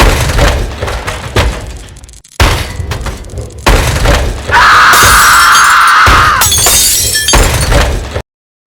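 A heavy mallet smashes down on glass, a sharp crash followed by a long, loud shattering spray of breaking pieces, with several earlier dull impacts and rumbles leading up to it.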